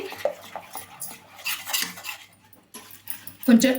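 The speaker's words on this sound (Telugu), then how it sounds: "కొంచెం అయితే లైట్గా చల్లారనిద్దాము, కానీ కలుపుతూనే ఉండాలండి" A spoon scrapes and clanks in a pan while gram flour ladoo mixture with powdered sugar is stirred, uneven knocks and scrapes up close, ending in a louder clatter.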